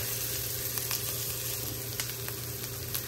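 Garlic and onion sauté in a pan for pork binagoongan, giving a steady, moderately loud sizzle with faint stirring scrapes and no voices.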